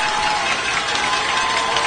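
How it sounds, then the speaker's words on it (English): High school football crowd in the fourth quarter cheering and clapping on a third down, a dense, steady roar of many voices and applause heard from within the stands. "the crowd's getting into it here on this 3rd down"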